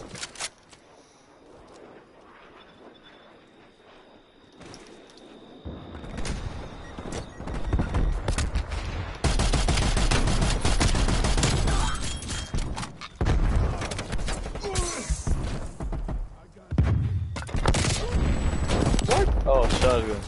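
Shotgun blasts and other gunfire in an online video game match, starting quiet and then breaking into loud, heavy shots with booms, mixed with game noise.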